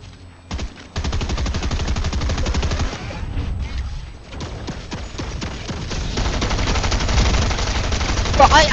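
Turret gunfire in Fortnite rattles in long, dense automatic bursts with a brief lull in the middle, loud and close.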